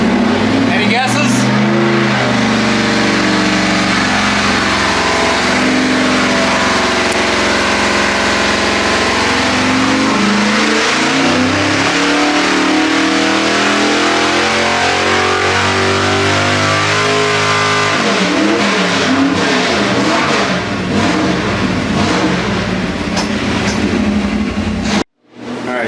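A Chevy 406 small-block V8 built for pump gas, screaming through a full-throttle pull on an engine dyno, loud and close, rising steadily in pitch for over twenty seconds before abruptly cutting off.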